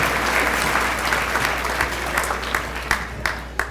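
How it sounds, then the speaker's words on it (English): A banquet audience at a university senior dinner gives a round of applause for the senior class gift committee, steady dense clapping with a few sharper claps standing out as it begins to thin toward the end. "let's give them a big round of applause"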